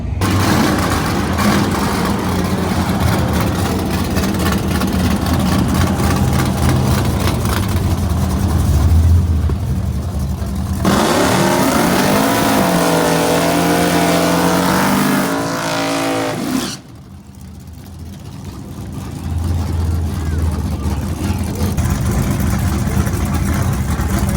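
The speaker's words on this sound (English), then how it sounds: "I'm going to make another pass here in a few minutes." A drag car on a drag-strip pass during a drag-and-drive event roars loudly, engine revving hard and climbing through gears with rising pitch, a brief lift near the end, then settling back to a steady engine note.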